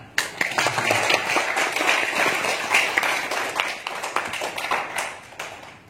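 Audience clapping at a hotel anniversary celebration, a dense burst of many hands clapping close by that fills the room and then thins out toward the end, with almost no talking.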